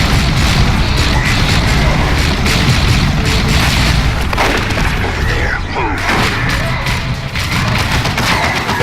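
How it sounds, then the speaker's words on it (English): Missile barrage explosions from Dawn of War II: Chaos Rising, a dense, continuous battle din of booming blasts and crackling bursts filling the scene, with voices talking over the chaos. "Missile barrage!"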